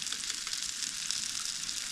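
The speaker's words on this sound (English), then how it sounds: "All right, so we've got our burgers cooking." Burgers frying on a camp stove outdoors in the bush, a steady, soft sizzle and crackle of hot fat, close and continuous with no talk.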